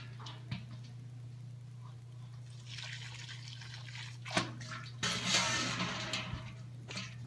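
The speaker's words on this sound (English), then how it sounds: "Add a little bit of water here." Hot water is poured slowly into a bulk mushroom substrate mix, with soft trickling and dripping plus a couple of louder splashy bursts over a steady low hum.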